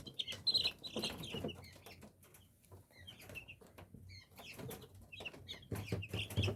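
Young turkey poults of the Big-6 breed chirp in a brooder, many high, thin peeps overlapping in bursts alongside soft clucking and scuffling, fairly quiet and close.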